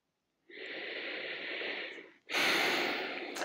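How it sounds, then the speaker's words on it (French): A deep, spontaneous breath during a vagus nerve exercise: a long, close inhale through the nose, then a short pause and a forceful, breathy exhale. "jusqu'à ce qu'il y ait une grande respiration qui se fasse, comme vous venez de le voir chez moi"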